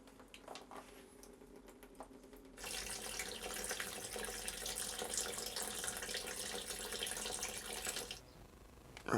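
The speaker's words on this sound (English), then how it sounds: "I've put a hose into the radiator and I'm going to flush it through with some clean water" Clean water from a hose flushes through a motorcycle radiator, a loud steady broadband gush and splash that starts abruptly, runs for several seconds and cuts off, with faint clicks and handling noise before it.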